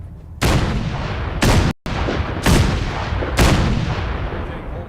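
Heavy weapon fire during a power armor suit test in the Fallout 4 video game: four loud, booming blasts roughly a second apart, each with a long rumbling tail, close and dominant.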